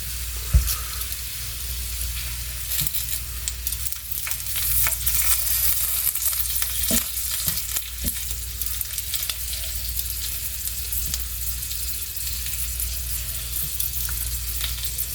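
Food fries until crispy in a hot pan while being cooked for a home dinner, a steady sizzle running throughout with occasional sharper crackles and stirring clicks, no talking.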